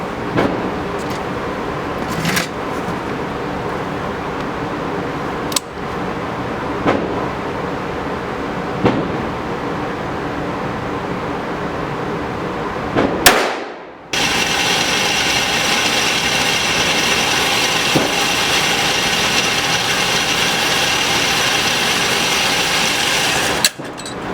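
Ruger Blackhawk flat-top .44 Special revolver with a 6.5-inch barrel firing 185-grain full wadcutter target loads at an outdoor range, several sharp shots spaced seconds apart, the last followed by a steady loud background noise.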